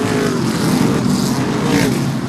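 Modified race cars racing at Seekonk Speedway, a loud, continuous roar of engines blending together as the pack circles the short oval, with a commentator talking over it.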